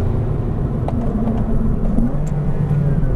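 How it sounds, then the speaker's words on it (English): Porsche Cayman R braking hard on a racetrack, a steady close engine and road rumble dropping in tone as the car slows, loud and continuous with no talk. "And on the brakes, hard on the brakes."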